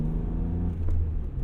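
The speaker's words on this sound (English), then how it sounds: "you get a lot more induction noise down low" Low-rev induction drone from a 1999 Dinan M Roadster engine, a steady close rumble with a slight swell from the throttle partway through, with no talk over it.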